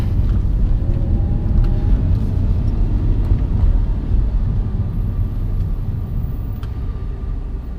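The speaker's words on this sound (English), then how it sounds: "So right now I'm using the pedal shift to downshift. And it sounds really great." Low, steady engine rumble from an Audi R8 supercar as paddle shifters drop it down through the gears, heard from inside the cabin without clear individual blips and with no talking.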